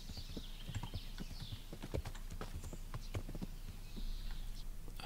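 A horse's hooves clip-clop in the video game Kingdom Come: Deliverance, a steady walking rhythm close by over quiet ambient background.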